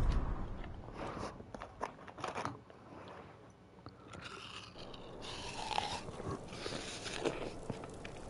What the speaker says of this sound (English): I'm trying to eat an apple.